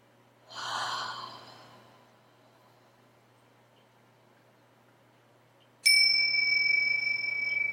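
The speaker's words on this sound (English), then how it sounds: "I love to use the bell" A long exhaled breath fades out, silence follows, then a single meditation bell strikes clearly and rings on with a steady, sustained tone.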